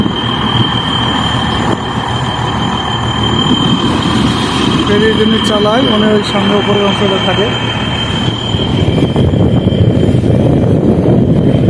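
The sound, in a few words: ferry engine noise on deck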